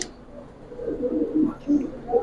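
Pigeons, Jabra Pankhi Giribaz breed, give soft low throaty coos in a few short bursts, close by, under a voice talking.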